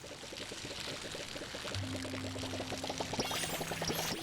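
A watering can pours over crops in the farming game Palia, a steady close pouring splash under soft game background tones, continuous for several seconds with no talk.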